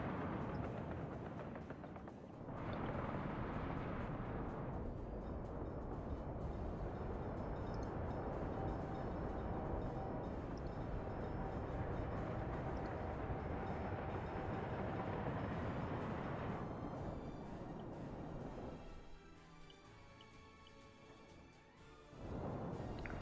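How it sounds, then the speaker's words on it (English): Trains running on a railway in the city-building game Workers and Resources, a steady rumbling rail roar that swells in after a couple of seconds, holds for most of the stretch, then thins out near the end with no talk over it. "Trains are getting here, supposedly."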